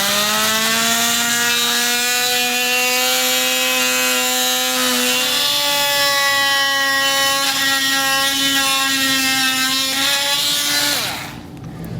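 A plastic part on a 2022 Ford Escape is trimmed with a tool that gives a loud, steady whining drone, rising slightly in pitch partway through, running continuously for about eleven seconds before cutting off.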